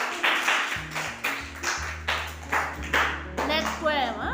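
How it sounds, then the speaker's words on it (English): Hands clapping in a school classroom during a nursery rhyme lesson, a steady series of about eight sharp claps, loud and close, with a tonal hum and a brief voice near the end. "clap your hands"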